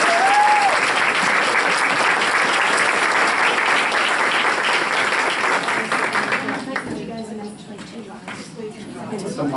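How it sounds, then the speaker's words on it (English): A large group at a board of education meeting gives a loud round of applause, dense clapping with a brief whistle early on, holding for several seconds before thinning out into scattered claps and murmuring voices. "So let's give them one more round of applause"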